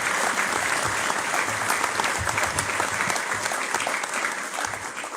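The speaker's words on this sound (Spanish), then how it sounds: "Recibámoslo con un aplauso." An audience gives a welcoming round of applause to a speaker at a formal gathering: thick, sustained clapping from a crowd, loud and even throughout, thinning slightly toward the end.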